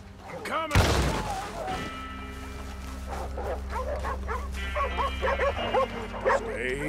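Dogs bark and yip repeatedly in a Red Dead Redemption 2 village fight, a loud thump near the start, then several mid-distance barks under a steady low drone with shouting voices around them.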